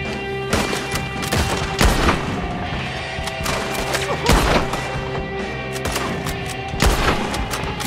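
A bolt-action rifle in Red Dead Redemption 2 fires single loud booming shots, spaced a couple of seconds apart, over a steady bed of in-game ambience and distant clatter.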